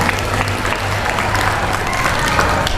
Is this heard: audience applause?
yes